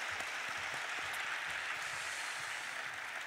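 Audience applause after a singer sings Arirang at the UNESCO Korean commission's 60th anniversary ceremony; steady dense clapping from a hall crowd, fairly faint and continuous throughout with no talk.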